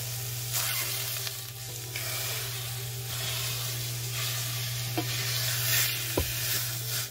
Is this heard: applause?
no